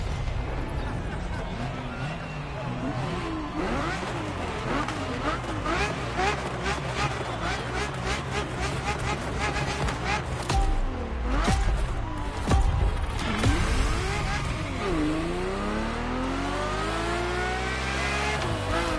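Race car engine in The Crew Motorfest, a Formula One–style car with covered wheels, roaring steadily throughout with repeated revving rises and gear shifts, loud and close, with occasional whooshing passes and a voice speaking over it.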